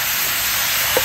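Tofu stir-fried with soy sauce in a wok gives a loud, dense hiss of sizzling in a brief, unbroken burst at close range.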